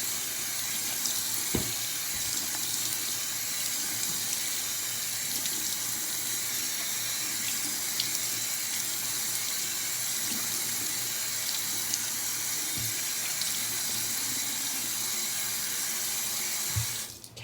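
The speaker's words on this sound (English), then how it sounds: "when I rinse the exfoliator off, I'm going to rinse it with cold water" Cold tap water runs steadily into a sink for rinsing a face, a constant close splashing hiss with occasional faint knocks and handling sounds, then stops abruptly at the end.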